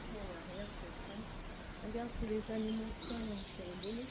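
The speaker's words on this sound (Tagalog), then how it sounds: "Ang dami nilang mga ibon." Many birds calling outdoors in Naha, Okinawa, with short chirps and tweets scattered over a steady background murmur and nearby talk.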